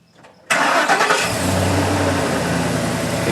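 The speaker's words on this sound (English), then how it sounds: "You can see when the truck starts" A 2011-2016 Ford F250 pickup truck engine cranks and catches abruptly, then settles into a loud, steady idle close by with no talking.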